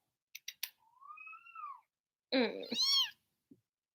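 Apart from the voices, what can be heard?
kitten meowing desperately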